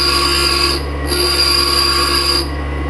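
A 1/4 inch ball nose D bit ground against the side of a grinding wheel gives a steady, loud high-pitched whine with a continuous motor hum beneath, briefly dipping twice as contact eases.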